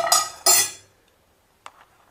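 A spoon stirs dry coconut in a pan for a vegan chutney powder, making two quick metallic scrapes close together, then a pause and one faint clink.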